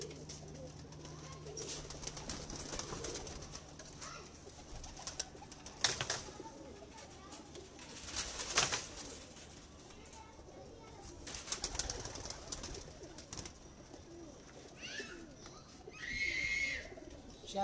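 Home-bred pigeons of the Mian Nazeer bloodline coo softly in a cupboard loft, with scattered wing flaps and handling knocks, faint and near, while someone talks intermittently throughout.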